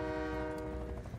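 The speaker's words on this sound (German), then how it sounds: "Der Zug fährt wieder." A train runs in the video game Just Cause 4, its horn sounding a loud sustained blast over the rumble and rattle of the cars, alone for over a second.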